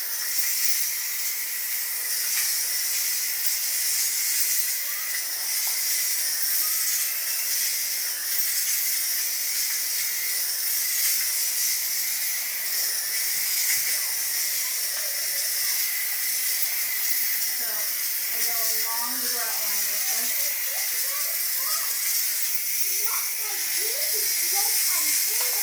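A steam mop hisses loudly and continuously while cleaning tile grout, a close, bright rushing spray that holds steady throughout, with a voice speaking softly underneath toward the end.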